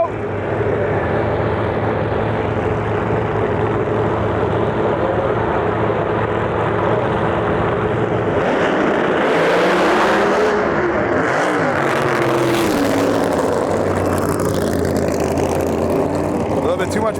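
Two drag cars, a 6th generation Camaro and a screw-blown 7th generation Corvette, launch and race down a strip at a street nationals event, a loud steady engine roar building into a surging, shifting burst of power midway.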